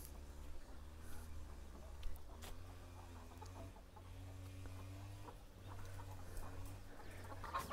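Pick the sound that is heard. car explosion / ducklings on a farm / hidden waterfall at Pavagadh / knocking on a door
ducklings on a farm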